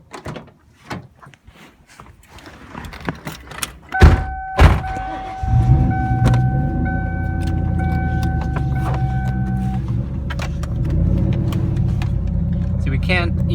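A 1998 Ford Mustang Cobra: a few door thunks and handling noises, then the engine cranks and catches into a steady idle and drives off, with a deep continuous rumble near the microphone.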